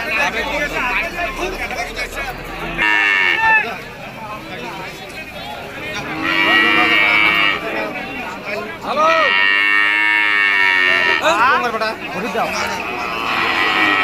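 A dairy cow moos loudly and repeatedly in long drawn-out calls amid the busy hubbub of voices at a cattle market in Nilphamari, Bangladesh.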